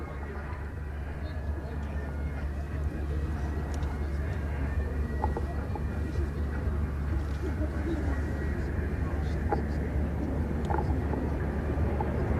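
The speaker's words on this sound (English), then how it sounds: "he's now setting up for the slow speed high alpha, high angle of attack pass, just 120 knots on this run" A fighter jet makes a slow, high angle of attack pass at about 120 knots during an air show, with fly-by-wire controls holding it steady. A constant, heavy low roar carries on throughout, with a voice talking over it.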